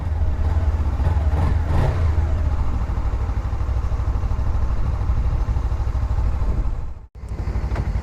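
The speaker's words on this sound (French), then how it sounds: "Très discret la sonorité." A 2017 Suzuki GSX-R 250, a small quiet-sounding motorcycle engine, runs close by at a steady, subdued idle with a few light revs, cutting out for a moment near the end before resuming.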